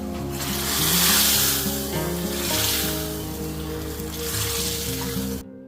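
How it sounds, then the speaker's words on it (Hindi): A dal tempering of desi ghee, garlic and asafoetida sizzles with a hissing, crackling wash that swells and fades in waves beneath prominent background music. "यहाँ मैंने लगाया है छौंका"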